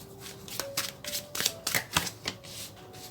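Tarot cards are shuffled and drawn in a love-fortune reading. Quick crisp taps and flicks follow one another, with faint tones now and then.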